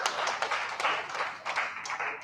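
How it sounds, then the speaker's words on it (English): Brief burst of audience clapping at a civic voting-access event in Nigeria's North West, steady and fairly close, lasting about two seconds without talk. "Let's give a round of applause again to ES."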